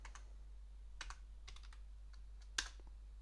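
Keystrokes on a computer keyboard while entering a Linux command, a handful of separate, fairly quiet clicks and short bursts spread over a few seconds, with one sharper tap near the end, over a steady low hum.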